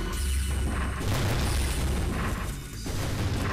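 Flak cannon fire in the Orbital Gear video game, heavy booming blasts crowding together in a loud, continuous barrage with no pause across the stretch.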